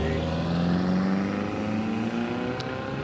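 A vintage race car in Class 8 (unsupercharged up to 1100 cc) launches off the line at the Prescott hillclimb, its engine nearly running out of revs before steadily building into a loud, continuous, firing drone with rising pitch.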